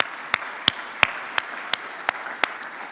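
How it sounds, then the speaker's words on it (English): Steady applause under a constant hiss of clapping, with sharper claps landing in a regular beat about three times a second. "So massive round of applause for Marla."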